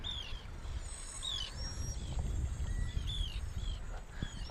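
Rapid, high-pitched squeaks and chirps from a boat's gear shift rise and repeat over a low, steady engine rumble near the water.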